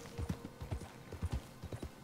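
Horse hooves clip-clop in a steady, evenly spaced rhythm through the Red Dead Redemption 2 western game, fairly close and moderately loud, with no talking over it.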